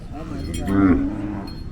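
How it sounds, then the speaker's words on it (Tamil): A single native-breed bull lows nearby at a cattle market, a deep drawn-out moo rising and fading over about a second, with faint background noise around it. "இதுவும் காளைங்களா?"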